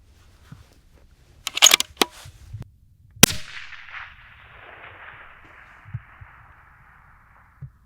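Distant rifle shots, 22 ARC or 22 Creed, fired toward a target 1,000 yards away: a few sharp cracks, the loudest followed by a long fading echo rolling across open ground, with no talk.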